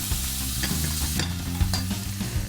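Spinach-soup ingredients, greens with a teaspoon of salt, sizzle in a pan as a spoon stirs them, with brisk scraping and crackling close up and no talking.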